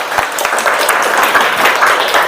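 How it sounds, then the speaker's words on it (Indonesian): A classroom of students gives a short burst of dense clapping after a student's presentation. It sounds close and lively and carries on steadily to the end without fading. "Tepuk tangan."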